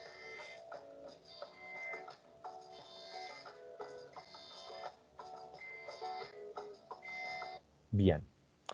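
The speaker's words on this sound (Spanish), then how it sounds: "Ahí está la alarma." An alarm sound file plays as a repeating pattern of electronic beeps in regular bursts, moderately loud, ending in a brief low thump.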